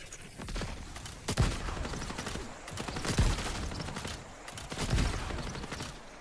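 Gunfire in the video game Marathon: bursts of sharp, punchy shots in a rapid fusillade, with three heavier booming hits spaced a couple of seconds apart over a busy game soundscape.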